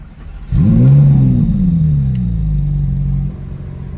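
A Ferrari 458 Italia V8 cranks and fires up close by, flaring into a loud rev before it settles into a deep, steady idle rumble.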